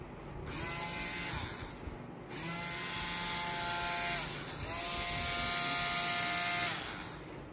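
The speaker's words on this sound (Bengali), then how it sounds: "ব্লেড ঘুরছে।" A multi-purpose blender chopper running with its blade spinning, a loud whining motor buzz in three bursts, each starting and stopping abruptly, heard close up with no talk.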